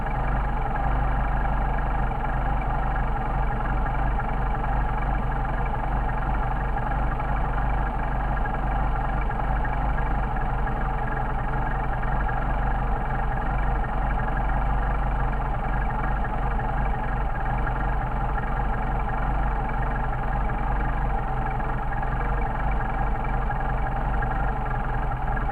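A Mercedes 190SL engine with Solex carburetors idles steadily near operating temperature, a loud, even low rumble holding constant throughout with no talking.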